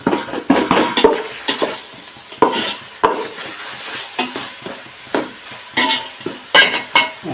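Tomato and onion sautéing in a pan for quail biryani: steady sizzle with repeated close scraping stirs and spatula knocks against the pan, fairly loud, no talking.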